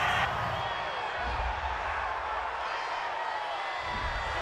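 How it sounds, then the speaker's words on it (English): A stadium crowd in an NFL football video game between the Jaguars and Bengals reacts to a roughing-the-passer penalty with a loud, sustained roar of disapproval, filling the background continuously. "this crowd does not like that call"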